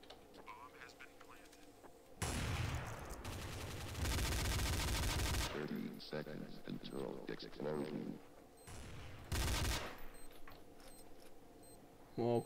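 Video game gunfire in a war shooter against Russians: bursts of rapid automatic fire and heavy shots come in loud clusters, separated by quieter stretches of footsteps and movement, with someone speaking in between.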